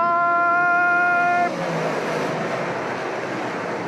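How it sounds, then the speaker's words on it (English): Big Block Modified dirt race cars roar around Brewerton Speedway, a loud steady engine blare that starts with a sustained harmonic whine and then spreads into a broad, rumbling wash of noise. "window-rattling beast of the Northeast, the Big Block Modified Super Dirt Car Series"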